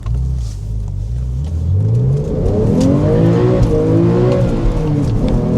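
A 2012 Porsche 911 Carrera GTS with a six-speed manual drifts, its engine revving hard and climbing in pitch through the gears, loud and close with a steady roar throughout.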